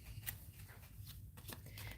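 A deck of playing cards being shuffled, quiet riffling bursts and flicks close by, soft and brief with no speech.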